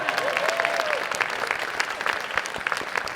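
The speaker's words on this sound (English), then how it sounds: "I think I heard a clap." Scattered audience clapping inside a downtown Akron civic theater, a patchy wash of hands with distinct individual claps popping out, sustained for a few seconds without talk.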